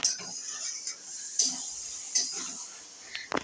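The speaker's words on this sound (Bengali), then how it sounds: "সার্ভ করার আগে একটু নেড়ে নিতে হবে" Food being stirred in a pot before serving, with a few sharp metallic clinks of a utensil against the pot over soft scraping, close and fairly quiet.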